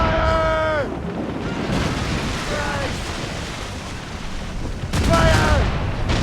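Ship cannons boom in a naval battle in Assassin's Creed Rogue, two clusters of shots with falling whistles amid wind and ocean noise, loud and near.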